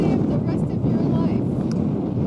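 Strong wind roars on the summit of Mt. Tamalpais as a constant low rumble buffeting the microphone, with faint voices under it.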